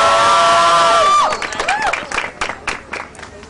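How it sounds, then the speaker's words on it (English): A rally crowd erupts in loud cheering and applause, with shouts and whoops rising over dense clapping that thins out gradually over a few seconds. "Give her a round of applause."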